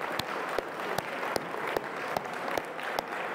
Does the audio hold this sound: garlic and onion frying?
no